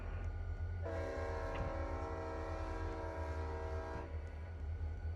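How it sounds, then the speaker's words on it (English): Diesel locomotive horn in the Rails of Unionville train game, one sustained chord-like blast lasting about three seconds over a steady low engine rumble. "And let's just honk it a little bit."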